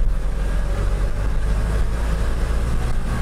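A manual Hyundai Porter 2 diesel truck engine hums low and steady up close in the cab, a continuous rumbling drone held at rising revs with no talking.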